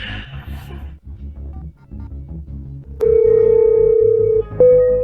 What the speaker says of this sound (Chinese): 我现在就打电话喊他出来